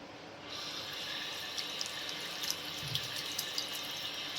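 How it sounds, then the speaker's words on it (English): Tap water runs steadily into a sink while painted fabric is rinsed beneath it, a constant close rush of flowing water with a few small splashes and drips. "I will wash in the water."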